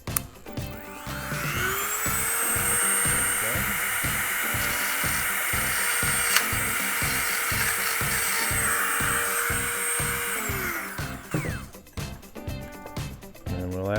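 A high-powered handpiece bores through a plastic e39 BMW sunshade, a sustained whining drill tone lasting around ten seconds, close and even, with rattling handling noises just before and after.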